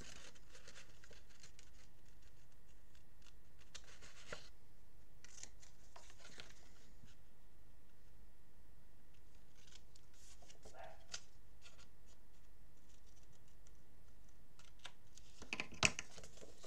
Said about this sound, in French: je vais découper mes carrés sur ma pochette